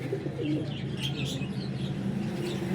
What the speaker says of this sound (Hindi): टैडी गोल्डना च कबूतर जे।